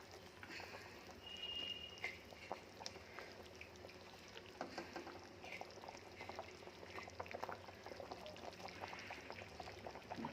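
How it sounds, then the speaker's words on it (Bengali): Fish slipped into a pot of water already at a rolling boil in a home kitchen, giving a close, steady bubbling and pouring wash with small splashes and clicks throughout. "দেখুন জলগুলো ফুটে এসেছে, এখন মাছ ছাড়ি"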